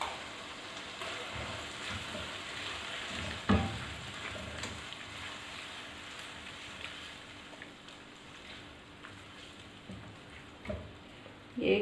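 Chopped large tomatoes frying in a pan of chicken and vegetable masala pasta give a steady, close sizzle throughout, with a few louder stirring knocks and scrapes.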